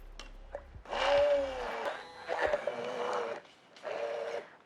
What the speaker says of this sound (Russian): И пробиваем блендером.